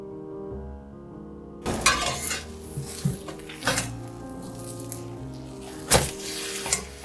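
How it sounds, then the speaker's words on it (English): Bread for a Reuben sandwich grills in a buttered skillet. After a quiet start, a loud sizzle bursts in and holds steady, broken by several clinks and scrapes of a utensil against the pan. "After placing the bread in the skillet, I proceed to butter the other side"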